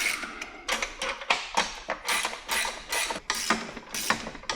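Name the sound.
tightening nuts and bolts on a bike rack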